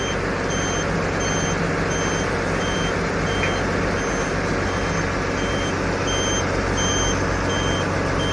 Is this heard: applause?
no